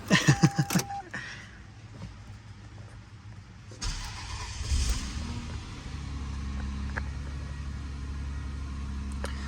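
A 1996 Toyota Windom with low miles: keys jingle briefly, then the engine cranks and catches, settling into a steady, close, low idle hum with no talking.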